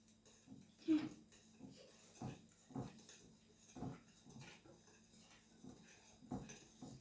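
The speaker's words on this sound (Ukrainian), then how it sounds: "Так, розмішуємо і розмішуємо." A utensil stirs butter and sugar in a bowl for shortbread dough, making faint, irregular scrapes and light clinks against the bowl at a slow, uneven pace.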